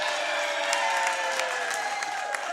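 An audience at a Beach Shaggers Hall of Fame ceremony applauding and cheering, a dense continuous wash of many hands clapping at steady loudness.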